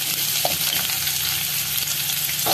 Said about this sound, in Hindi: प्याज को लहसुन के साथ हल्का सा सौटे करेंगे।